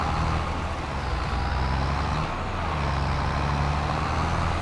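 A John Deere 7810 tractor in Farming Simulator 25 drives along, its steady low engine drone humming evenly and continuously at moderate loudness with no voices.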